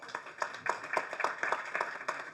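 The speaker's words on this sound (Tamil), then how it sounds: "திரு அர்ஜுன் அவர்களையும் திரு தம்பி ராமையா சார் அவர்களையும் நாம் அனைவரும் சேர்ந்து கைத்தட்டி வரவேற்போம்" A wedding get-together crowd claps to welcome guests, steady rhythmic handclaps at moderate volume, somewhat distant and fairly thin.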